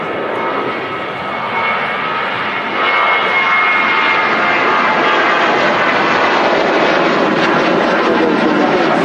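A Scandinavian Airlines Boeing 737-700 at Manchester Airport passes as a loud, steady broadband jet roar that swells slightly after a few seconds and holds, with no talk over it.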